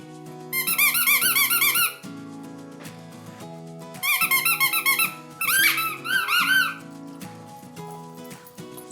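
A squeaky dog ball toy is squeezed for a teething puppy, giving three bursts of rapid, high, bright squeaks, each lasting about a second or two, over a steady background of soft music.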